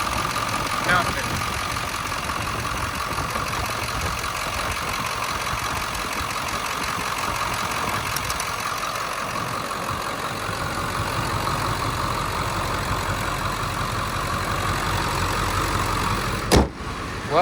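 A 1999 Ford F-250 extended cab 4x4 with the 7.3L Powerstroke diesel idles steadily at close range, a low even rumble with a faint knocking undertone, and a sharp click near the end.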